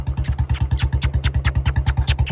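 A motorcycle engine runs close by with a steady, rapid thumping idle beat, loud and alone with no talk over it.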